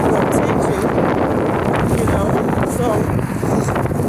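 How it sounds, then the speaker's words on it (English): Strong wind blows outdoors at night, buffeting the microphone with a steady, loud, broadband roar that lasts throughout with no letup. "it's pretty windy out here."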